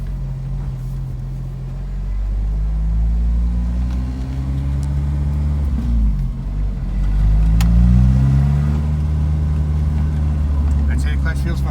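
Jeep engine idling and revving during a test drive, a steady low rumble with rising and falling pitch as the throttle opens, loud and close throughout the clip.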